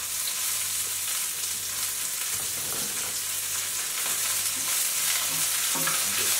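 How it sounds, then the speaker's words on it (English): Half of a vegetable mixture frying in hot oil makes a steady, close crackling sizzle with occasional stirring scrapes, continuous and alone without talk. "So we'll take half of our vegetable mixture, put in some nice hot oil."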